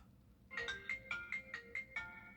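A FaceTime video call ringtone on a phone, a quick series of bright, bell-like pulses repeating in an even rhythm for about two seconds, fairly faint and alone.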